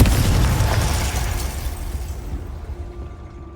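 A Confringo explosion spell in Hogwarts Legacy, a loud close blast with a heavy low boom that rumbles and fades out over a few seconds.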